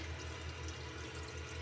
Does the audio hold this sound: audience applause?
no